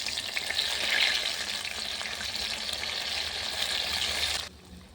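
Stuffed pointed gourd with a spiced gram flour filling fries in oil in a pan over a clay stove, a close, steady sizzle and crackle that suddenly drops away near the end.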